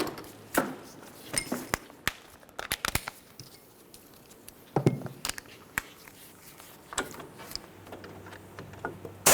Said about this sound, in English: We'll start in both of these mounting bolts, snug them up, and then we'll torque each of them to 85 foot-pounds.